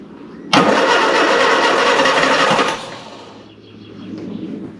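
A classic Mini van, off the road for 25 years with the choke pulled up manually, cranks loudly for about two seconds in a steady rapid churn, then drops away into quieter idle-like rumble.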